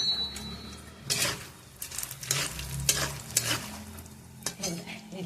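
A spoon stirs puffed rice chivda with turmeric in a frying pan, giving a steady dry rustling and scraping with repeated clinks of metal on the pan, close and fairly loud, without speech.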